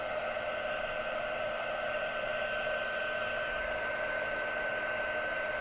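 A heat embossing tool blows steadily and loudly while embossing a card, a continuous airy roar with a high whine that holds without a break throughout.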